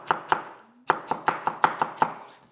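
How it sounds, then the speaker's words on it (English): A knife finely chops an onion on a board for a tikka spice fish pie: crisp, close thuds in two bursts, a couple of strokes, a short pause, then a quick even run of about seven more. "you need to chop your onion quite finely so that everything cooks nice and evenly"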